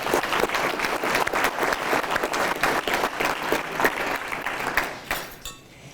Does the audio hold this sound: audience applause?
yes